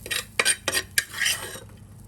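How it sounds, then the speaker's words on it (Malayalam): Roasted black sesame seeds tipped into a steel mixer grinder jar, giving a few quick rattling, pattering bursts and light clinks over about two seconds, close and fairly soft. "അത് നമുക്ക് നമ്മുടെ മിക്സിയുടെ ജാറിലേക്ക് ഇട്ട് കൊടുക്കാം."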